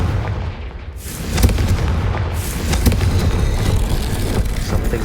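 Confringo blasting spell explosions in Hogwarts Legacy, heavy booming blasts and rumbling impacts amid loud continuous game combat noise, no talk.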